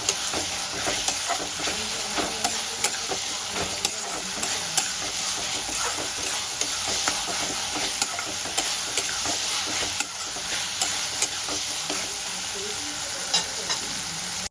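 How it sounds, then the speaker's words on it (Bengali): Ginger, garlic and green chili paste frying in a pan, a continuous close sizzle with regular ticking taps and scrapes of a spoon stirring it, no voices. "আমি আদা রসুন কাঁচা লঙ্কা একসঙ্গে পেস্ট করে নিয়েছিলাম পেস্টটা দিয়ে আমি ভালো করে কষাতে থাকবো"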